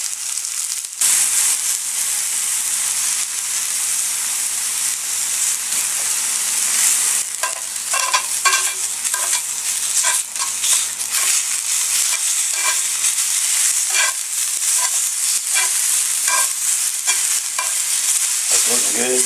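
Onions fry in a pan with a steady, loud hiss and sizzle, and frequent scraping stir sounds come through near the mic. The sizzle runs throughout and no one speaks.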